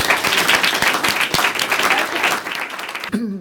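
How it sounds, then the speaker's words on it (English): Big round of applause from a panel audience welcoming a Kaiser Permanente panelist, loud, dense clapping from many hands lasting about three seconds before it stops and a voice begins. "a very big round of applause"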